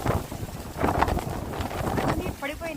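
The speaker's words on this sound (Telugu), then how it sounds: "వర్షం, గాలి వర్షం" Heavy wind and rain storm roaring steadily as a broad, rushing wash of noise close to the microphone, with gusts buffeting it and a brief voice near the end.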